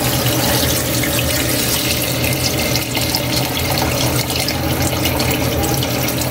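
Steady, loud pouring of rice-washing water into a cooking pot for pork nilaga, a continuous close splashing gush lasting several seconds.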